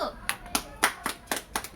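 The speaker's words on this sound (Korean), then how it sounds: "박수!" A run of about seven crisp hand claps in a steady, fairly quick rhythm, close and clear, welcoming the start of a live broadcast.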